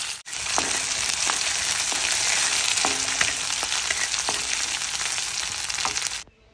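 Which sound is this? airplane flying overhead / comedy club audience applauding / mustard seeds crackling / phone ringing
mustard seeds crackling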